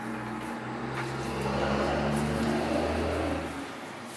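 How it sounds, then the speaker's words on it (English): A truck rolling past outdoors, a steady low rumble that swells toward the middle and then fades away, heard alone with no talking. "Sorry, that was a truck. I don't know if you could hear it."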